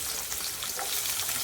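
Onions and green chillies frying in hot oil for a fish curry, a steady close sizzle with soft crackling throughout, no one speaking.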